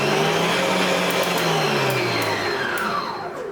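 Zuccie stand mixer motor whirring with an empty bowl, a loud close whine that shifts pitch slightly as it runs and then tapers near the end, no voices.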